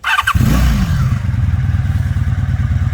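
A 1985 Honda V65 Sabre motorcycle on its stock exhaust starts with a clunk and settles into a loud, close, throbbing engine idle with an even pulsing beat.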